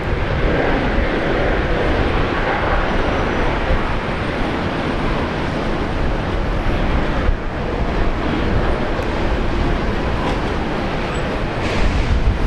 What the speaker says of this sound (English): Jetstar 54, the next heavy inbound, 19 left coming in from Seoul